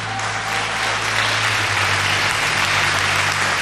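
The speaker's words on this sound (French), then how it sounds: "On peut les applaudir très très fort" Loud, dense audience applause fills a gospel contest hall, a steady wash of many hands clapping with no pauses, carrying on evenly throughout.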